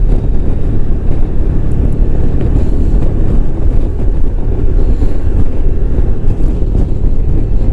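Loud, steady wind roar and road rumble from riding a 1994 Honda ST1100 Pan European motorcycle, an unbroken buffeting wash that fills the whole clip with no talking.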